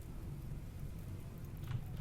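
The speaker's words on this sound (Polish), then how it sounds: "A, przyszedł deszcz." Rain arrives in the colony-building game Rimworld as a faint, steady wash with a low rumble beneath it.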